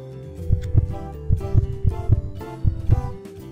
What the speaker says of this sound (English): Baby heartbeat is normal.